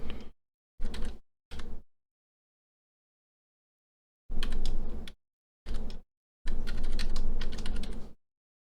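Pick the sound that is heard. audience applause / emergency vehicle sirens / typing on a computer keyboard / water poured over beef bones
typing on a computer keyboard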